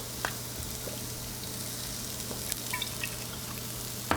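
Chopped onion sautés in oil in a pan, a steady close sizzle with scattered small pops and crackles running evenly throughout and no talking.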